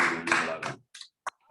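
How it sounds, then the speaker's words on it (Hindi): A voice at a children's assembly at a Jain religious school, followed by a few scattered, separate hand claps as audience applause begins. "जोरदार तालियां।"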